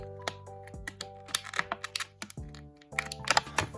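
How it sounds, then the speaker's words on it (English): Sharp plastic clicks and snips crackle up close in quick clusters as scissors cut a plastic tie on a small Mattel Disney Princess doll, set against soft tonal music in the background. "I'll use my trusty scissors here to clip the little piece of plastic that's holding Jasmine in."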